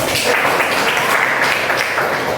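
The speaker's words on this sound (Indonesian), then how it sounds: "kasih lagi sekali lagi aplaus" A classroom of students gives a group presentation a steady, dense round of applause, loud and continuous with no break.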